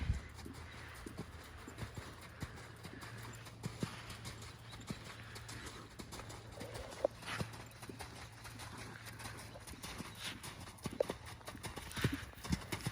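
Horse hooves clip-clopping steadily through a canter training session in an arena, a continuous rhythmic beat at close range with occasional snorts and light background noise.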